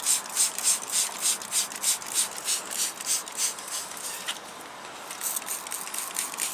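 A brush scrubs shampoo into fabric car upholstery in a heavily soiled interior, with a steady rhythmic rubbing and swishing that repeats several times, then turns lighter and more even near the end.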